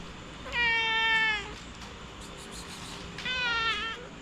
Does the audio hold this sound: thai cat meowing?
yes